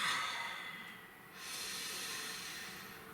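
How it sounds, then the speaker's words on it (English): One slow, deep breath, soft and close, with an airy hiss that swells, dips and rises again in a quiet, still setting. "Please take a nice deep breath."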